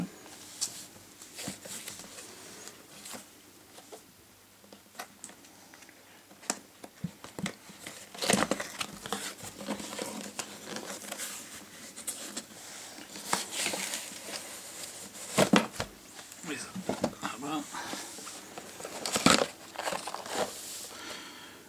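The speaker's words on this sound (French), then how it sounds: "Nous allons faire le déballage." Packaging for an Ainol Novo7 seven-inch Android tablet crinkles and rustles as it is unboxed, with scattered crackles and rustling bursts that grow busier toward the end and no talk.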